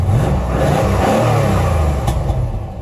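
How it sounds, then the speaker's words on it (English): A C4 Chevrolet Corvette ZR-1 with LT5 engine and stock exhaust revs hard close by, a loud, throaty exhaust roar with low rumble rising and holding. "It does make the exhaust a little louder."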